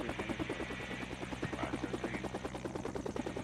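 A helicopter engine in the video game Helicopter Search and Rescue drones with fast rotor thumping that pulses evenly throughout, loud and steady, with no speech.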